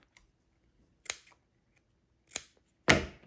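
Scissors snip through leftover fabric in a few separate, crisp cuts, close and fairly quiet, with near silence in between and the last cut the loudest.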